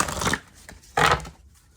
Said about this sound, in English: Let's shuffle this up again.